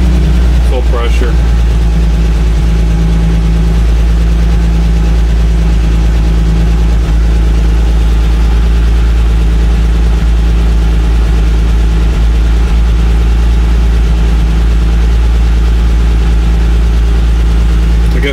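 A 1973 Diamond REO truck's engine idling close by, a loud steady low rumble throughout with a brief higher rattle near the start.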